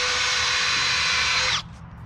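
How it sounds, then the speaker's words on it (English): A power drill with a bit bores a hole through the side of a wooden post for a straw bale garden, a loud, close, steady whine lasting about a second and a half before cutting off abruptly. "I'm having to take and drill a hole with a bit in the side,"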